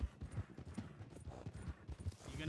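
Horse hooves from a video game clip-clop at a brisk, steady gallop, close and fairly quiet, with faint voices in the background.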